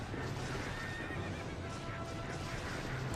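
Horses in a battle scene from the video game Kessen 2 whinny loudly over a dense wash of galloping hooves and battlefield noise, with the neighs rising and falling through the whole passage.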